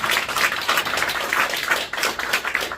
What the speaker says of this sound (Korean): 이분들에게 큰 박수 한번 해주시기 바랍니다